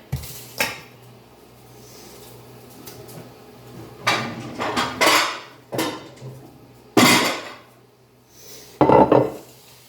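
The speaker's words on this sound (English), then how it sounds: "we're going to mix this together and start forming some balls in a pan" Meatball mixture for sugar-free, grain-free BBQ meatballs is worked in a bowl, producing intermittent bursts of clattering, squelching and scraping separated by short quiet pauses.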